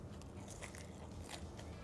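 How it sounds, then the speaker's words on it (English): A crunchy bite into a Wagyu beef street taco on a flour tortilla topped with cool slaw and sauce, a few crisp crackling crunches up close and faint, with no talking. "Getting a nice cool crunch with that slaw"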